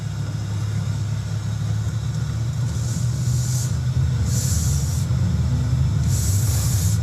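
An Audi electric car pulls away, giving a steady low rumble with smooth road and cabin noise and faint airy whooshes, no speech over it.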